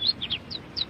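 A few high, thin chirps from a small bird, quick and close, in a short burst, in an animated story.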